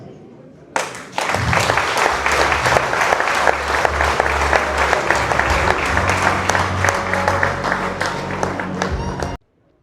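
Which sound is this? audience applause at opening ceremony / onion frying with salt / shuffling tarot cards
audience applause at opening ceremony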